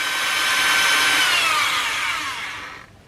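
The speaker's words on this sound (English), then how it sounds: "hand drill with a fixed fast speed like this one, and a 135 degree drill bit, do the following. Squeeze the trigger very softly." A fixed-speed hand drill fitted with a 135-degree bit runs on acrylic sheet, giving a whining, high-pitched tone whose pitch slides down as the trigger eases before it cuts off near the end.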